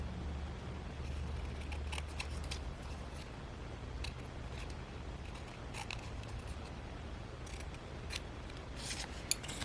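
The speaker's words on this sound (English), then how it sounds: "Cut 4 of them out." Scissors cut paper pieces for a junk journal page, making quiet, crisp snips in scattered short bursts over a low steady background hum.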